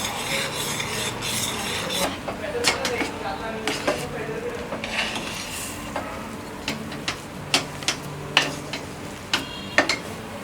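A spoon scrapes and knocks around a pan as a potato mixture with rice flour is stirred continuously over a low flame, with a series of light metallic clinks and rasps under a soft background hiss.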